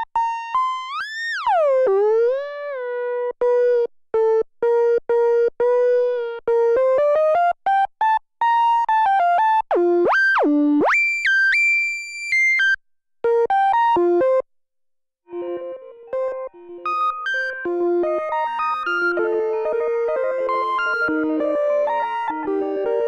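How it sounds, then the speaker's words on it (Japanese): Moog Matriarch synthesizer playing a pure sine tone through its analog delay, with gliding pitch sweeps, stepped melodic notes and echoing repeats that thicken into overlapping tones toward the end. "アナログディレイとサイン波の組み合わせって最高っすね"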